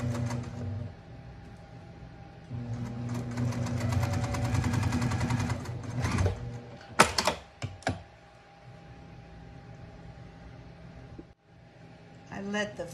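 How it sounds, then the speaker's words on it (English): A sewing machine runs in a sustained burst, then in shorter bursts, stitching quilt fabric with a scant quarter-inch seam, close and fairly loud, with a person talking at times around the stitching. "I'm going to start sewing, and I am still taking that scant 1/4 inch."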